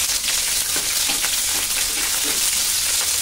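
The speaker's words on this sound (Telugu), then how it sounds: "నూనె వేడయ్యాక అందులో పచ్చిమిరపకాయలు వేసి వేయించుకోవాలి" Green chilies fry in hot oil in a pan for an ivy gourd tomato chutney, giving a steady, close, crackling sizzle with small pops throughout and no voices.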